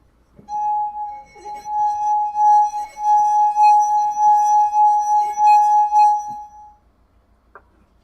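Glass harmonica playing a melody of the Soviet national anthem, sustained pure ringing tones held in long smooth phrases, clear and fairly loud, fading out near the end.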